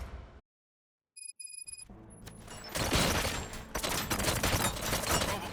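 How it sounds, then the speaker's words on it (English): Gunfire rattles in the Robocop: Rogue City video game as Decker's bots attack. A brief silence and a few electronic tones give way to a dense, loud burst of overlapping shots that keeps building. "Gunshots? What's going on?"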